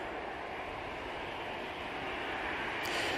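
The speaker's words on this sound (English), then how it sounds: "we got this Finnair going out" A Finnair plane departing Manchester Airport, its engines a steady, broad distant roar that swells slightly toward the end.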